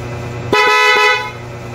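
One loud horn blast from a Kawasaki Barako 2 motorcycle's dual horn, lasting about half a second, close and strong, over a quiet idling engine.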